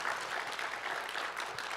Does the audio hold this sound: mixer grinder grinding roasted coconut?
no